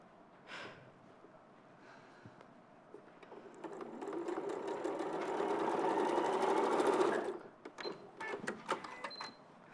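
A sewing machine bastes quilted fabric pieces together, its motor whirring up for a few seconds of steady stitching that builds and then stops, fairly quiet, with some handling clicks around it.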